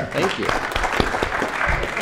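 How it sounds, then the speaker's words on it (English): An audience at a disruptive technology event claps in a brisk round of applause, fairly close and loud, with a person speaking briefly over the clapping. "Big round of applause"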